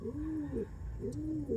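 A female pigeon, tired from travel and held at a bird sale, gives two soft, rolling coos in a row, close and fairly quiet, with no one talking.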